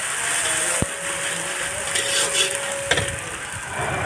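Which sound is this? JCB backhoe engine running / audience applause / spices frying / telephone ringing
spices frying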